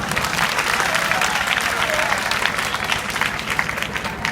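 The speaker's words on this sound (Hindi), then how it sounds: "मार्कंडे बाबू के लिए ताली बजाओ।" At an inter college in Azamgarh, a room of students applauds a pupil with dense, continuous, loud clapping that lasts the whole stretch.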